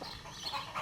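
A Houdan hen, a crested French breed, gives brief soft clucks nearby in a short burst with no talk.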